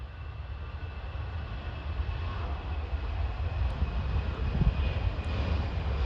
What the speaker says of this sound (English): and we can hear the sound. Yes, CFM56 engine.